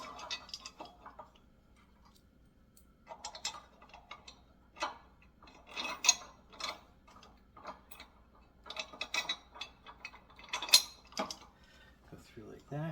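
Metallic clicks and ratcheting ticks from a bolt being tightened with washers on a gym machine attachment, part of a Smith machine and power rack setup, coming in short irregular bursts with pauses between them.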